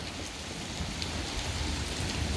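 Steady rain falling during a thunderstorm, a dense even hiss of drops hitting the ground, fairly soft and unbroken across the short stretch with no voices.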